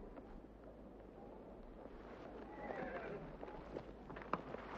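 Horses in a western film shift and stamp with faint hoof clops under windy outdoor ambience, building toward a short neigh near the end, fairly quiet overall.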